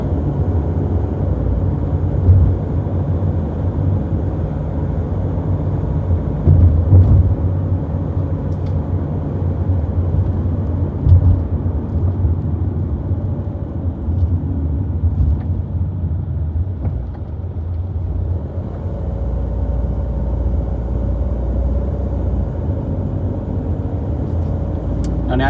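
A car drives along a road with a steady, loud low rumble of engine and tyres that holds evenly throughout, with only small swells and no voices.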